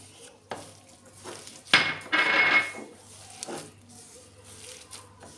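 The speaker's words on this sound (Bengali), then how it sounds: "এবারে চিনি আর নারকেল গুঁড়ো ভালো করে মিশিয়ে নেব।" Spoon scraping and clinking against a pan while sugar and grated coconut are stirred together, a few distinct scrapes and knocks with a louder burst of metallic clatter in the middle, close and alone.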